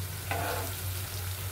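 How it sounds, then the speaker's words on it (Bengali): Chopped onions frying in a pan for a Bihari-style chicken masala, giving a steady soft sizzle with a brief stir, close and fairly quiet, with no talking. "তো যেটা কুচনো পেঁয়াজ সেটা ভাজছি"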